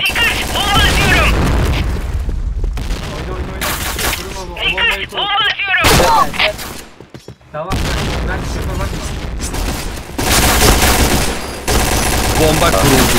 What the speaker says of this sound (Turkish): Dikkat! Bomba atıyorum!